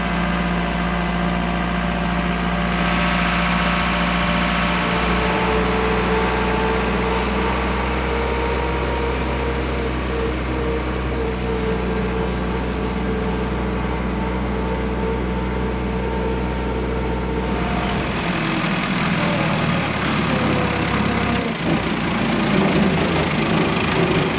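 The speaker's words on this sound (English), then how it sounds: "Gotta get that engine nice and warm." Car engine idling steadily while it warms up, a close, constant low rumble with even mechanical hum that holds for over twenty seconds, shifting slightly in tone near the end.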